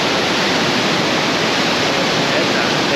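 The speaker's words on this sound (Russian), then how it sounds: "Вот этот водопад, наверное, больше всех нравится." A powerful waterfall near Red Cave in Crimea roars as a loud, dense, unbroken wash of falling water close by, with no voices over it.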